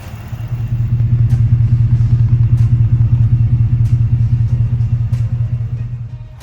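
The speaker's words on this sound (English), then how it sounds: "I leave it running on purpose so you guys can hear that's a nice, healthy sounding V8 engine" A 2023 Ford F-150 XLT V8 engine idles steadily up close, a deep, even rumble with a regular lumpy pulse and no voices.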